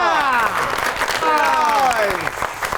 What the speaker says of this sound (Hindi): आपकी बहुत सी तालियों में निम्रा मेहरा।